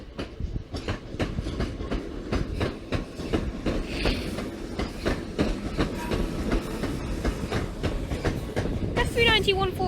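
A Virgin Trains Pendolino pulls out of Manchester Piccadilly station, its wheels clattering in a steady rhythm close by, with a short squeal or horn-like tone near the end.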